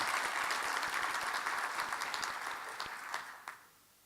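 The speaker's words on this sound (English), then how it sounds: "a warm round of applause" An audience at a public education honoring event gives a warm round of applause, a steady crowd clapping that thins and fades out near the end.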